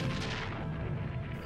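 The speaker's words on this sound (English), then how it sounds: "These are falconets, light, breech-loading artillery." Light breech-loading falconet cannons firing in a steady rumbling volley, dense booming blasts overlapping throughout with no pauses, loud and continuous rather than single distinct shots.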